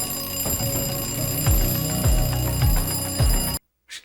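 An alarm clock rings steadily as a continuous bright, close, loud bell with a rhythmic pulsing pattern, then cuts off abruptly near the end, leaving a short silence.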